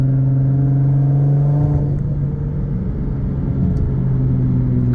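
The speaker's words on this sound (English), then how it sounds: "Car sounds amazing." Nissan GT-R Black Edition engine idling with a steady, loud low rumble and harmonic drone throughout, shifting slightly in pitch midway with no voices.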